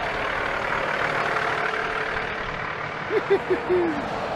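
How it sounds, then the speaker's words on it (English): A big truck engine idles nearby at a highway rest area with a steady low rumble. A few short tonal chirps rise briefly above it near the end. "we're at the rest area. And it's noisy. Let me get away from the truck."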